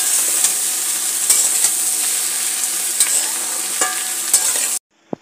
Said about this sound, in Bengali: এইবার পেঁয়াজ আর বেগুনটাকেও কিন্তু আলু আর শিমের সাথে একসঙ্গে আবারও ভেজে নিচ্ছি।